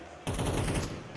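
Upgraded pistol fire in Counter-Strike, Five-seveN, during an esports match on an expo stage: a quick burst of rapid, loud shots arrives abruptly and runs on in a dense rattle, with no speech.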